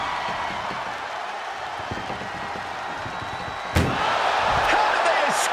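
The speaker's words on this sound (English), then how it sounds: "Trying to at least slam one door shut." An ambulance door slams shut during a WWE ambulance match between Sami Zayn and Seth Rollins, one sharp loud bang cutting through arena crowd noise.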